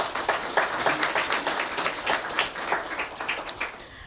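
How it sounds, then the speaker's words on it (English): A round of applause from an audience at a Canada Fund event, steady dense clapping at moderate distance that swells and gradually tapers off. "So let's give her a round of applause."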